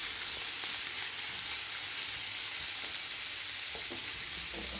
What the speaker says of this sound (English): You have to cook the squid for 2 to 3 minutes on a high heat so it will become